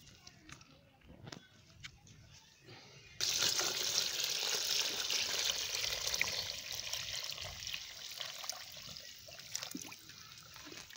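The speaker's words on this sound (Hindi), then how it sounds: "इस तरह इसमें पानी डाल देंगे और इसको अच्छी तरह से हिला देंगे" Water pours steadily into a bucket of compost, starting abruptly after a few seconds of quiet handling and continuing as a sustained, splashing gush.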